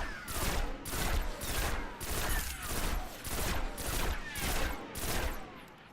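A pulse rifle in the Destiny video game fires repeated bursts, about nine evenly spaced volleys of rapid shots with a steady rhythm, loud and clear with no talking.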